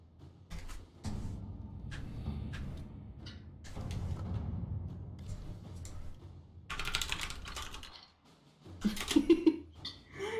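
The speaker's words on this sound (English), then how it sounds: "Your typing's always so loud. I have a loud key. Clickety clackety clickety clackety." Loud, rapid clicking of computer keys, typed in bursts with short pauses between, close up and with no talking.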